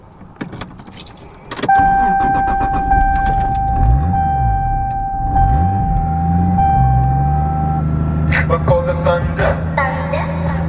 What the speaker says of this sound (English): Still gotta work out the cranking feel, but pretty much starts right up every single time.